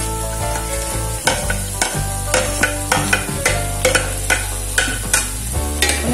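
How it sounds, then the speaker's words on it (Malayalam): Mango pieces stirred into a sautéed pickle mixture in a pan: loud rhythmic spoon scrapes recur about every half second over a constant close sizzle, with no voices. "നന്നായിട്ട് ഇളക്കി യോജിപ്പിച്ചെടുക്കാം."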